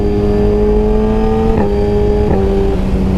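A Suzuki GSX-R1000R with a Brocks full exhaust accelerates hard and loud. Its rising engine drone is cut by two quick, crisp quickshift breaks, each dropping the pitch before it climbs again. No voices.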